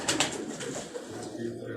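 Pigeons on a Karachi rooftop loft give soft, repeated coos close by, mixed with rustling and a faint background voice.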